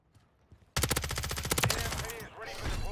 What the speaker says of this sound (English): Waited on him just long enough to shoot him in the back here.